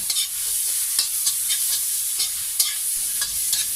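Shrimp sauté in a pan for pancit, a loud bright sizzle running throughout, punctuated by regular stirring strokes of a utensil against the pan.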